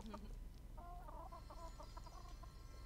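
A hen in Fae Farm gives a short run of clucks, quiet and close over a soft game backdrop, with no talk during it.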